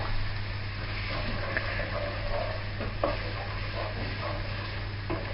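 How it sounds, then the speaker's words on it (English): Chopped carrots and other vegetables stirred in oil in a pan for samosa filling, soft scraping and light sizzling over a steady low hum. "Again, continue stirring so you're getting even oil all around the pan."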